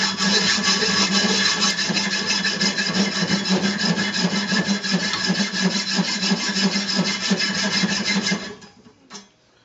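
A saw with a new 32 teeth per inch blade rasps through wood in fast, even back-and-forth strokes that are loud and close, running continuously before stopping near the end.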